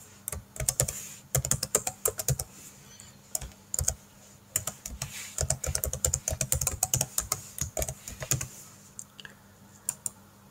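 An email address typed on a computer keyboard: quick irregular bursts of close, crisp key clicks with short pauses between runs, fading out near the end.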